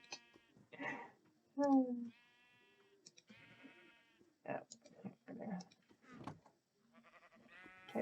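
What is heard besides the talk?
sheep bleating in Minecraft video game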